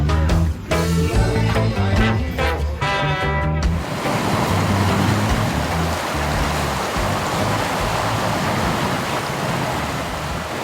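A sailboat under way from Chatham Bay, Union Island toward Bonaire, with steady loud wind and rushing water surging against the hull throughout, after a brief stretch of music at the start.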